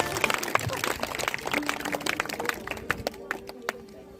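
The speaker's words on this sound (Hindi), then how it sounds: "जोरदार तालियां" Audience clapping at a school farewell ceremony in a government senior secondary school, a dense patter of hand claps that thins toward the end, with a steady tone and voices mixed in.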